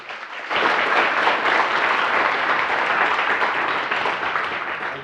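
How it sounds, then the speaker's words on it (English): An audience at a conference talk breaks into applause, a sudden, loud burst of many hands clapping that starts after a brief quiet and holds steady before tapering slightly. "I want to give a big applause to Logan"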